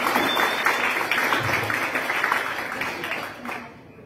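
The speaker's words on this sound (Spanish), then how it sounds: "Por lo cual pido un fuerte aplauso también." Audience applause at an institute anniversary celebration, a dense, steady patter of many hands clapping nearby that thins and fades out near the end.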